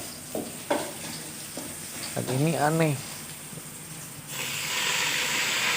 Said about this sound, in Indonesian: menggoreng bala-bala tapi muncul kayak busa